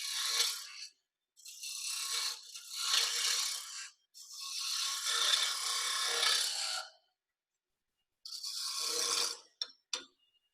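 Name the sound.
hand scraper scraping wood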